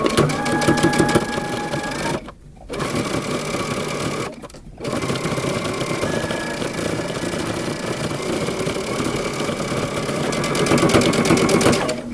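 Sewing machine running long, steady seams joining the band to the fronts of a long coat, whirring close up with two short pauses, no one talking.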